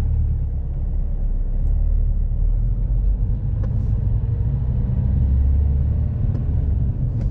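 Car engine idling and creeping under clutch control during a city driving lesson, a steady low rumble heard from inside the cabin throughout with no speech.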